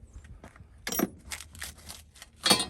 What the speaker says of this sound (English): Lots of keys.